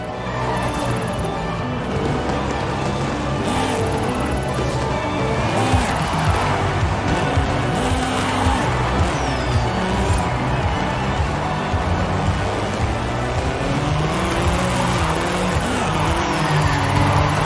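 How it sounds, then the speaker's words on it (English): A Mercedes Sprinter van drifts down a runway in Forza Horizon 5, its engine droning loud and steady with shifting revs and tire scrub throughout. "So just drifting down the runway?"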